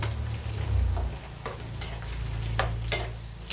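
Pork cracklings fry in hot oil during a second fry, a loud, steady sizzle with scraping stirring strokes running through it.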